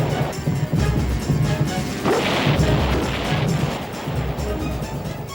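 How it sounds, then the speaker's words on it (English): Naval gunfire from American cruisers bombarding an island before dawn, heard as a loud, continuous rolling series of heavy booms and crashes with layered rumble throughout. "The unmistakable roll of naval gunfire shatters the silence, setting parts of the island and the pre-dawn sky on fire."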